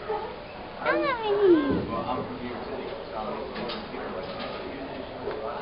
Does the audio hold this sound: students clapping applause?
no